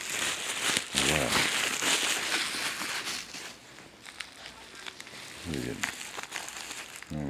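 Close crinkling and crumpling of a plastic sticker package wrapper being opened by hand, with bursts of rustling and tearing, while someone speaks intermittently.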